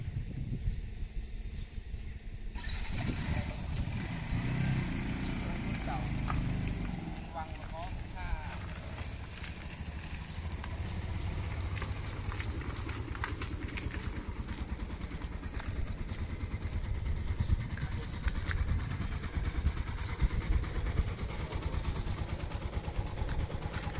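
A sidecar motorcycle engine cranks over and catches, then settles into a steady, loud idle that rumbles on close by, with people talking over it.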